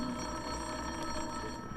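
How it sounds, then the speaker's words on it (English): An old-fashioned telephone bell rings steadily for a couple of seconds in an old radio detective drama, a continuous metallic ring heard alone at moderate level with no talking. "It was the phone."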